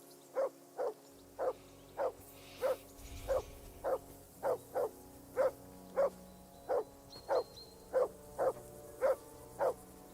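A dog barks in a steady, evenly spaced series of about fourteen medium-loud barks, one roughly every two-thirds of a second, with no other sound between them.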